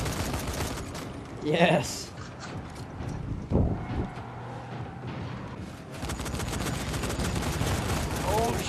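Shotgun fire in the zombie game Dying Light, a few heavy blasts spaced apart amid mechanical clatter and game noise, with several players talking excitedly over it.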